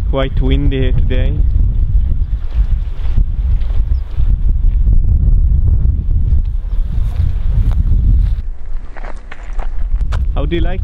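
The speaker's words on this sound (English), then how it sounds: "Quite windy here today." Strong wind buffets the microphone on the Arctic Circle coast of northern Sweden, with a constant low rumble and roar, and a voice speaks briefly at the start and end.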